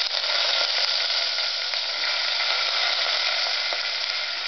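Vegetables for sambar sizzle steadily in a hot pan, a continuous loud frying hiss with faint crackles and no pauses.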